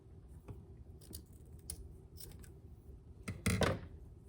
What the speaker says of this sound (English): I'm going to go ahead and give this a snip.